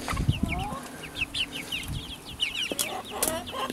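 Several chickens cluck and chatter close by in quick, irregular bursts, with a few higher squawks and rustling movement.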